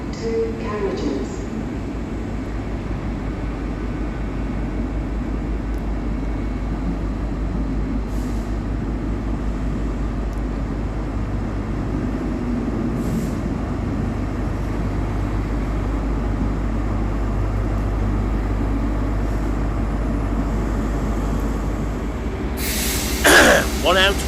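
A two-carriage Scotrail diesel unit on the Montrose to Inverness service draws into platform 7 at Aberdeen station, a steady low engine drone and rumble building and lingering, with a brief louder burst at the end.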